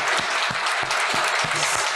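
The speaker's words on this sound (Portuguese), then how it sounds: "sendo aqui aplaudida de pé, a voz da sociedade" A seated audience at a Brazilian transparency committee hearing gives a standing ovation, with dense, continuous clapping from many hands and a few stronger individual claps, close and loud, and no talk over it.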